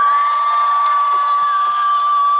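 Convention crowd cheering and applauding, a loud, continuous roar with high-pitched shrieks and whoops sustained throughout.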